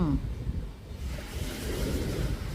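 Surf on Pattaya Beach in Thailand washes in a steady, broad roar, rumbling low with wind buffeting the microphone throughout.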